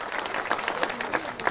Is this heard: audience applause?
yes